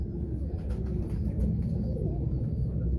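Pigeons coo softly in low, throaty murmurs, partly masked by a dense low background rumble, with a few faint higher chirps.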